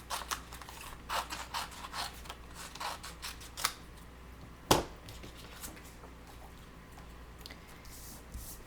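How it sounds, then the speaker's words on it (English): Scissors cut out a paper rub-on at a crafting table: a series of close, crisp snips and rustles, with one sharper click midway, then quieter handling. "I'm gonna take these scissors."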